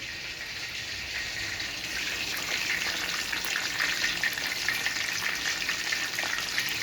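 Onions sizzle and crackle steadily in a hot pot, a constant close frying hiss with no talking.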